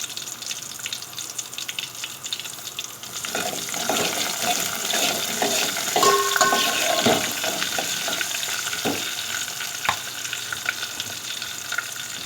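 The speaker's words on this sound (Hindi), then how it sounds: "अब हम इसमें हरी मिर्चें डालेंगे।" Green chillies and cumin fry in hot oil, a steady close sizzle that grows denser partway through, with occasional scrapes and clicks of stirring.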